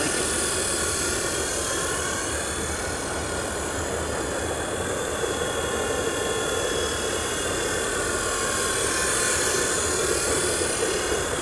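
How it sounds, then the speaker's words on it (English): SilverLit toy RC helicopter flying indoors, a continuous high-pitched electric motor and rotor whine that holds steady and close, with no talk over it. "Flying indoors though, this helicopter is really great."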